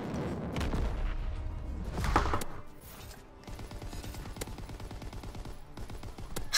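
Triple V2 rocket strikes in a WW2 video game arrive as heavy, rumbling explosions in quick succession, followed by a stretch of crackling gunfire and debris.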